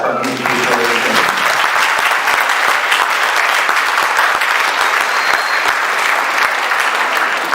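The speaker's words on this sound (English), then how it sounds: "I think we need to give a round of applause to our music teachers." An audience at a Brooklyn Christmas show applauds its music teachers: dense, sustained clapping from a large crowd, steady and loud throughout without a break.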